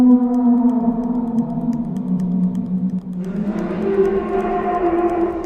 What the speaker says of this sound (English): This is a mysterious sound from the depths of the ocean called the bloop.